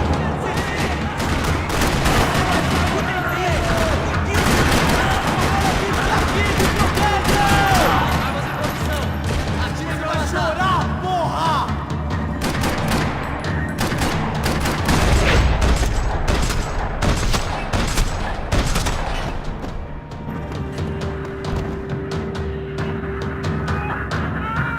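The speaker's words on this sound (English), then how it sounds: "Another parking lot rattling with gunfire." Rapid bursts of gunfire rattle across a parking lot in Max Payne 3, dense volleys and single shots overlapping with booms, loud and continuous with occasional voices under the shooting.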